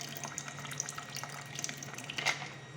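Ice water is poured into a container while making fried chicken meatball dough: a quiet, steady trickling and splashing with small drips, rising to a brighter splash near the end.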